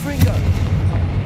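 A Confringo fire spell blasts in the Hogwarts Legacy video game, giving one loud, short booming burst with a rumbling tail.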